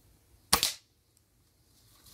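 A scoped gun fires at a target 14 metres away: a single sharp, loud crack with a quick second snap right after, then near silence.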